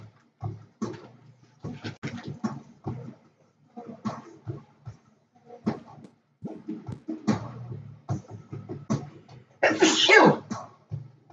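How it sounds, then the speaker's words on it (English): Several forceful human sneezes, the loudest a strong, bright burst near the end, spread among quieter breathy sounds and short vocal noises in an indoor setting during a chill livestream. "Yeah, I've got pretty strong sneezes."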